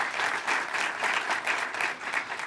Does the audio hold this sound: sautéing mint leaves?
no